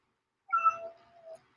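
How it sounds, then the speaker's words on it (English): Domestic cat giving one drawn-out meow that rises and then trails off, close and clear against a silent background. "my kitty's meowing"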